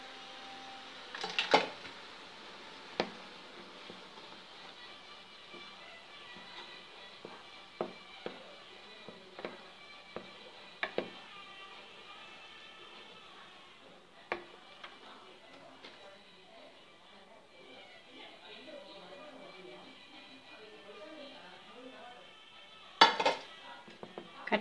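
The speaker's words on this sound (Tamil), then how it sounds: "இதில் வந்து இந்த மாவு போட்டு கிளறிடலாம். கட்டி இல்லாமல் கிளறிடலாங்க." Ragi flour being stirred into boiling jaggery syrup in a pan for sweet ragi kozhukattai, with a spoon scraping and clinking against the metal in scattered taps over a steady low bubbling hiss.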